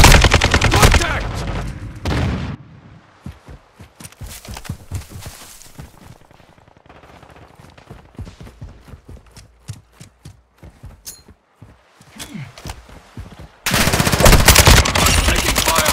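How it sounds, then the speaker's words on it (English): Rapid automatic fire from a Kastov 762 rifle in Modern Warfare 2: loud bursts at the start and end with a stretch of quicker, lighter rattling shots between them, plus a brief voice. "Taking fire!"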